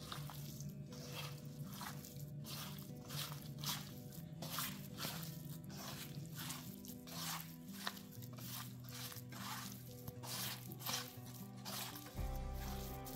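Marinated beef for a Kerala-style beef fry being mixed by hand, giving a steady run of wet, squishy squelches in a quick repeating rhythm, close up and without talk.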